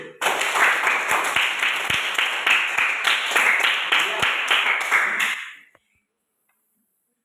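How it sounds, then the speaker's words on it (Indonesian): Students in a classroom clap for a classmate, a brisk, fairly loud round of hand claps lasting about five seconds before stopping abruptly into silence, with a brief spoken word near the start. "Kita beri tepuk tangan untuk tulis."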